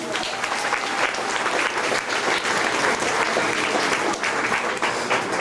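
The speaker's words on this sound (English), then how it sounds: "let's give them a big round of applause" Audience applause for a film crew at the MGM studio backstage tour, a steady, full round of many hands clapping that holds evenly throughout at close range.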